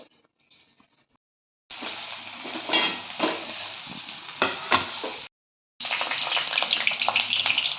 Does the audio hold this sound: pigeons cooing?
no